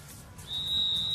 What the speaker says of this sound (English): So whistle's gone, ready for a start here